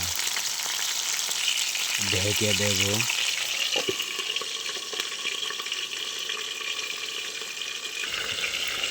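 Constant close sizzling and bubbling of frying oil, with a brief spoken phrase and a short clank partway through.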